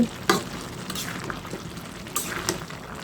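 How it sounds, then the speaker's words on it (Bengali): Spices are stirred into cabbage ghonto in a pan, giving soft frying sizzle and scraping stir strokes with a few sharper clinks, close and moderately quiet. "এখন আমি নেড়ে ছেড়ে মিশিয়ে দিচ্ছি"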